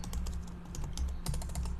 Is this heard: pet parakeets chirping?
no